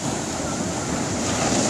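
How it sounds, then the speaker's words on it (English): Sea waves at Kollam Beach in stormy evening weather with high tides, a steady, loud wash of surf mixed with wind buffeting the microphone. "The sea, high tides."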